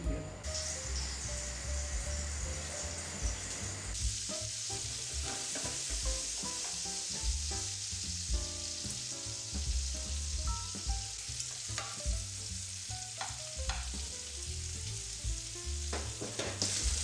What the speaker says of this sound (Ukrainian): котлети викладає на гарячу сковорідку з олією.